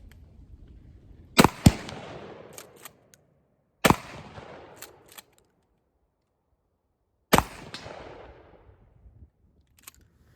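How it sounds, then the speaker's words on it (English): Pump-action shotgun firing wax slugs at a target 100 yards away, three sharp loud blasts spaced a few seconds apart, each followed by a decaying echo and a fainter far-off report. "I just kind of want to show how some of these wax slugs are going to hit"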